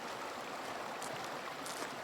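A woodland stream flowing steadily, a soft continuous rush of water heard from a short distance, faint and unbroken.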